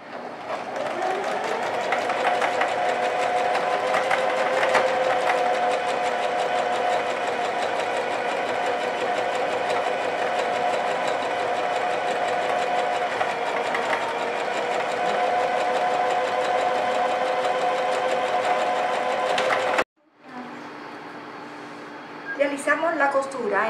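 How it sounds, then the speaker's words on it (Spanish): Overlock machine stitching a straight seam along a fabric edge for a girl's shorts outfit, a continuous close mechanical whir lasting about twenty seconds before a brief stop and softer restart. "realizamos una costura recta con un overlock en el orillo"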